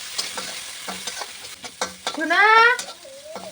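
Onions, garlic and salt fry in hot oil while a spatula scrapes the pan in quick repeated strokes, with a voice speaking briefly and a high whistling tone rising over the sizzle near the end.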